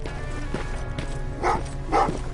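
Dogs barking inside the Terminator: Resistance video game, two short sharp barks in quick succession over a low humming game ambience.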